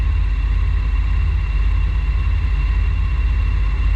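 A BMW motorcycle rides a lap of Circuit Gilles Villeneuve, its engine holding a steady, close, humming drone with a low rumbling base throughout, and no voices over it.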